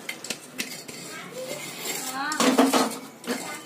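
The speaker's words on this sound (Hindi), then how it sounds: "गैस की फ्लेम को कम कर दें और कंटिन्यू चलाते हुए अच्छे से मिक्स कर दें" A metal spoon clinks and scrapes around a pan as ground cashews and peanuts are stirred into sugar syrup for kaju katli, with a louder burst of clattering near the end.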